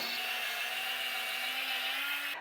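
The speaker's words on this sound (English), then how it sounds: "Okay, we've done a little bit of scrubbing." A HOTO Wand cordless spin scrubber runs on its high setting against a surface, giving a steady, close motor whir with a scrubbing rasp that holds evenly for about two seconds before cutting off.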